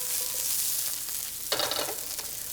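Vegetables for an omelet sauté in a hot pan, giving a steady close sizzle with a brief louder burst of hissing partway through as they are stirred or tossed.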